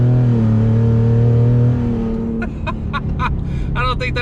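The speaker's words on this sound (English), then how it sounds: "I'm going to put it in sport as well, do some brake boosting here." A decatted 2019 Ford Raptor set to sport mode holds a loud, droning rev while brake boosting, then launches into harsher, choppy engine bursts as traction control keeps cutting in, all heard close up.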